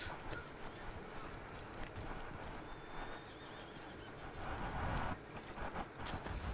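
A horse running in Red Dead Redemption 2, with hoofbeats, a whinny and a busy game soundscape, quiet and continuous over about six seconds.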